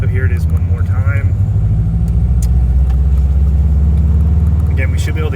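A Subaru GC8 with a front-mount intercooler pulls steadily in second gear below about 3,000 rpm, its low engine rumble loud and close and building throughout.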